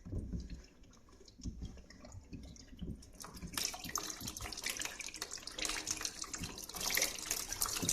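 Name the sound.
water pouring out of filter housing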